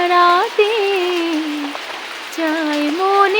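Steady rain patters and hisses softly in the background on a rainy morning while a person sings a Rabindra Sangeet melody over it, the singing far louder than the rain.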